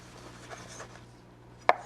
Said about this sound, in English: I'm going to cut the steak up into thin slices